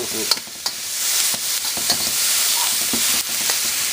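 Strips of meat stir-frying in an oiled pan, a loud steady sizzle with a series of clacks and scrapes from the spatula pushing the pieces around, close up and without speech.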